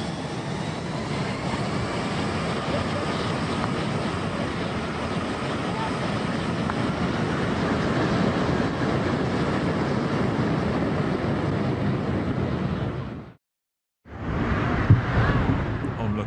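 Jet aircraft exhaust blast roaring across a Caribbean beach at the end of a runway, a loud continuous broadband rush that cuts out abruptly, then resumes briefly.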